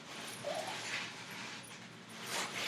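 Max, a pet dog, whimpers nearby in a few soft, high whines spread over a few seconds against faint background noise.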